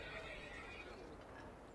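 A horse neighs in Kingdom Come: Deliverance, a dappled gray mount, its whinny heard faintly beneath continuous speech over a brief stretch.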